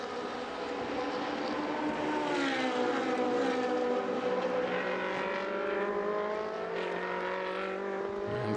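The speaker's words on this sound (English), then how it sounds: "Back on the throttle again for the start-finish straight." A race car in the 2016 Coppa Shell race at Jerez de la Frontera comes back on the throttle onto the start-finish straight, its engine note climbing steadily in pitch as a loud, sustained, close howl.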